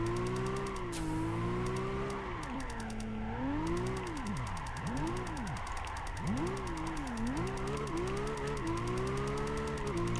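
Blitz Skyline race car in Gran Turismo 5 revving hard throughout a drift event, its loud engine note climbing and dropping in repeated sweeps as it shifts almost instantly, with steady high-pitched whine above.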